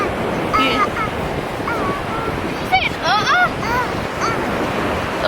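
Ocean waves wash onto a beach in the evening in a steady, close roar with wind buffeting the microphone, while high children's voices chatter and squeal over the surf.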